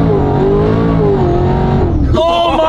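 A fast performance car spinning out on a track, its engine revving loud and close with a wavering roar that shifts abruptly near the end, alone without talk.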